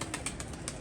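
Pigeons released into the air in a rooftop flock flight, wings flapping in a steady, dense flutter with a few sharper bursts of wingbeats, close and fairly loud with no voices.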